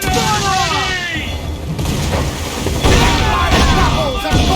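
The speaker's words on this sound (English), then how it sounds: "Cannon ready!" Ship cannons boom in the Assassin's Creed IV Black Flag video game, heavy thuds rolling under a dense, loud battle din. Voices shout over the noise throughout.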